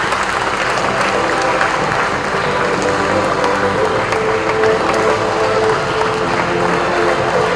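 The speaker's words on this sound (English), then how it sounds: "A big round of applause, please." An audience at a karate tournament applauds an under-18 college team receiving an award, dense, steady clapping that holds at full strength from start to finish.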